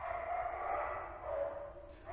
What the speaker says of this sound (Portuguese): meus cachorros tá de brincadeira de mau gosto